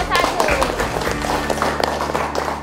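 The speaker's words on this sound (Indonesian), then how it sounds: "Tepuk tangan dulu untuk kelompok" Classmates clap for a student group in a classroom session, a scattered burst of applause mixed with voices, background noise and a bit of murmur.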